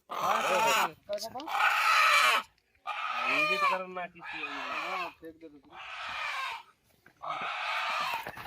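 A seven-month-old rooster weighing 1.1 kg gives several drawn-out crows and squawks in bursts, fairly close, with short pauses between calls.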